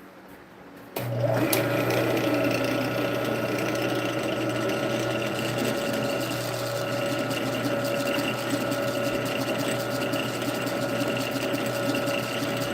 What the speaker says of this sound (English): I gotta sand it.